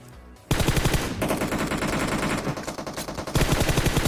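Rapid automatic gunfire from a video game shooter, with dense, continuous bursts of loud shots close up and a short break before a final burst.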